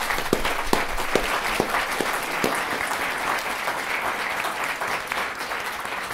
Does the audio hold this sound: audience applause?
yes